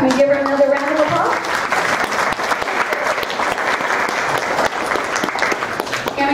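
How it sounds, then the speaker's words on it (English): An audience claps steadily and loudly for actors for several seconds, a dense wash of applause that holds to the end after a brief tonal sound at the start. "Can we give her another round of applause?"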